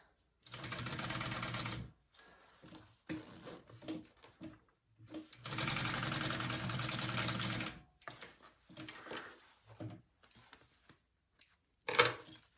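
A sewing machine stitching a crossbody bag panel at a quarter-inch seam without a zipper foot runs in two long close bursts and several short ones, with quiet pauses and handling between.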